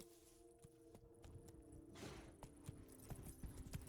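Horse hooves from the video game The Witcher 3: Wild Hunt, soft clip-clop steps in an irregular walking rhythm, faint against quiet game ambience with a low tonal hum.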